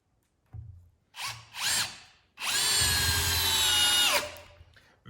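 A Bosch GSR 12V-300FC drill/driver set to speed 2 whirs in two short bursts, then runs in one loud, sustained high-pitched spin for about two seconds before winding down, close by with no talking.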